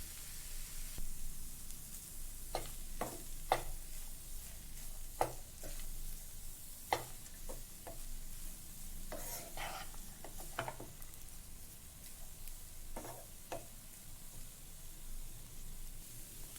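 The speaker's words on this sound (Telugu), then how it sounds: "రైస్ని ఇప్పుడు బాగా కలుపుకుందాం" Tomato coriander rice being mixed in a pan, a soft continuous hiss with scattered scraping clicks of the spoon against the pan, fairly quiet and unhurried.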